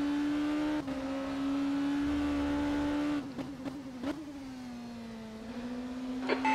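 Oreca LMP2 race car in rFactor 2 at Interlagos: a steady, loud engine drone that dips and stutters over curbs around the middle, then settles back into a sustained tone with a slight rise near the end.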